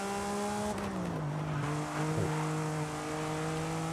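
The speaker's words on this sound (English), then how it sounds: "Great Porsche sounds." A Porsche in the Forza Horizon racing game, its engine droning at a steady pitch that dips and recovers through a corner while tires squeal, loud and continuous with no talking.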